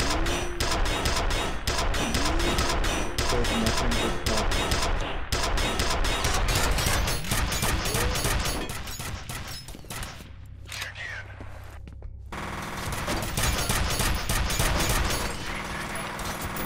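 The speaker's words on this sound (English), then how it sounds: "Love it when they're shooting and you kill them." Dense, continuous automatic gunfire from enemies in a F.E.A.R. firefight, loud and relentless with rattling machine-gun bursts and mechanical clatter, easing briefly mid-way before resuming.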